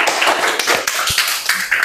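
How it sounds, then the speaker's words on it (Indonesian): Brief applause in a school classroom for a student group, with a scattered patter of hands clapping at close range for about two seconds. "Terima kasih kelompok 2, beri aplaus dulu."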